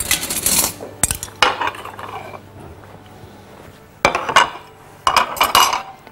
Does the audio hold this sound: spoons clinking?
yes